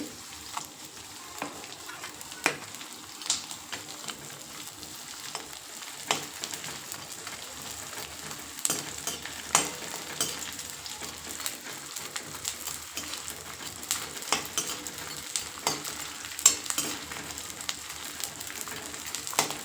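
Edible gum (dink) frying in a pan of hot fat, a steady low sizzle with soft crackles and occasional sharp pops throughout, fairly quiet and close, no voices.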